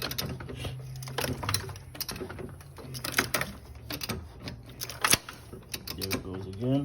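Clicking from a slipping cam phaser in a 2012 Mercedes-Benz C250 engine, sharp ticks recurring irregularly over a mechanical clatter, with a person talking at times.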